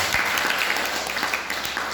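A church congregation claps together in a continuous, loud patter of many hands, sustained evenly throughout with no voice on top.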